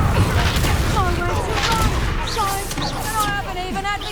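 A disarming spell cast in the wizarding game Hogwarts Legacy, heard as whooshing magical bursts and impacts amid combat noise, with a voice calling out over the effects.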